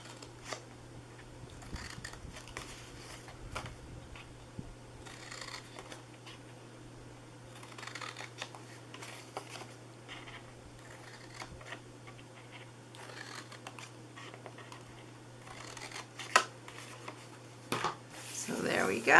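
Scissors snip paper for a Christmas gift box in short, quiet, scattered cuts over a low steady hum, with a soft clatter of handled paper between them.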